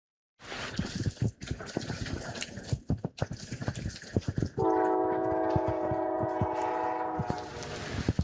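A passenger train rolls along with heavy clattering rumble, then a loud sustained horn blast sounds for several seconds over the continuing rail noise.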